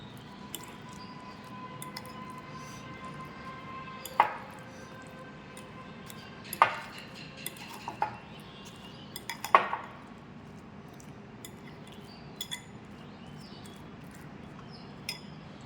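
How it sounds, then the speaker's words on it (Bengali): Fruit salad being mixed with chaat masala in a bowl, soft squishy stirring broken by several sharp clinks of a utensil against the bowl at irregular intervals, fairly quiet with no talking. "কিছুটা চাট মশলা আমি অ্যাড করে দিলাম এবার আমি এটা ভালো করে মিশিয়ে দেবো"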